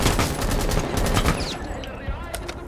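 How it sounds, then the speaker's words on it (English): Gunfire from Bandit in Rainbow Six Siege, a rapid close string of automatic shots that tapers off, with a player's voice speaking over it. "Bandit shooting at me."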